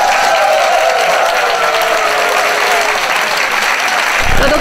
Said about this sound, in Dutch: een applausje voor Luc Dijkhuis